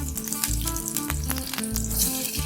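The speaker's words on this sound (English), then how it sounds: "In the same oil, we will be frying the potatoes now." Potatoes frying in reused oil for chicken biryani, a steady bright sizzle with recurring low thuds and clinks from a pan or utensil.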